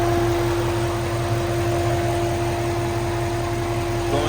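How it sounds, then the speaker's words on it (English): A classic car's radiator cooling fan runs steadily with an even mechanical whir and a constant hum over the idling engine, close to the microphone and unbroken throughout. "But I hear the fan running."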